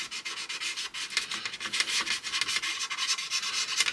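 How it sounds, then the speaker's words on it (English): Rhythmic rasping strokes of sandpaper rub across a part of a 1/16 scale M4A1 medium tank model kit, close and fairly loud, repeating in quick uneven bursts with no talk. "keep sanding"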